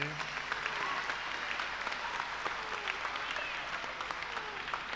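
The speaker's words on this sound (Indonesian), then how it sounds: "Kita beri tepuk tangan sekali lagi." A church congregation at a Sunday Eucharist applauds children receiving first communion, steady moderately distant clapping filling the whole stretch.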